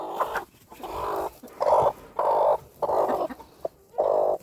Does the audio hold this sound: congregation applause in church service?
no